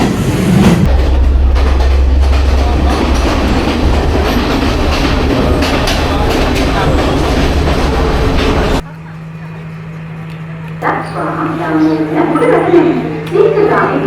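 Loud continuous rumble and rattling of a Sri Lankan express train on its tracks, heard from a third-class carriage, then the noise drops suddenly to a quieter hum with people talking.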